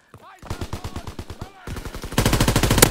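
Rapid automatic gunfire in Call of Duty: WWII, a steady chain of sharp, evenly spaced shots that grows louder and denser toward the end.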